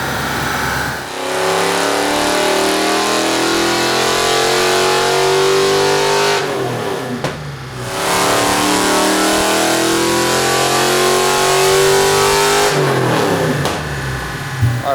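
A car engine fitted with a modern exhaust revs hard and loud at close range, holding sustained high revs twice with a brief drop between pulls, and no talking.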